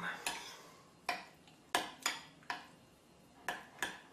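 A spoon stirs yogurt seasoned with salt and pepper in a bowl, producing sharp, close clinks and scrapes at irregular intervals, about eight distinct taps against the bowl with quiet gaps between.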